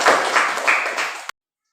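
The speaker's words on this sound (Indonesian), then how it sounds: "Tepuk tangan untuk kita semua." A group claps together at a school coaching session, a brief dense burst of applause lasting just over a second before it cuts off abruptly into silence.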